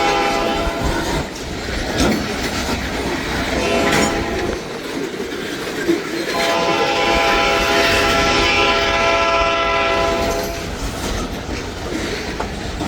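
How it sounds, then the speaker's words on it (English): A long freight train rolls past, likely led by an SD40-2 locomotive, with loud rumbling and clattering wheels and a sustained horn blast in the middle, the noise staying heavy and close throughout. "Quite the train going south finally, huh?"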